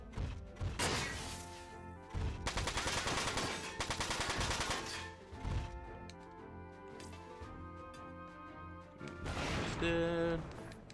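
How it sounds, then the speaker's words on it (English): Rapid bursts of heavy machine gun fire from a mech weapon in the tactical game Front Mission 4, with dense rattling volleys punctuated by crashes and thuds over a music bed. "And this is a much more powerful machine gun."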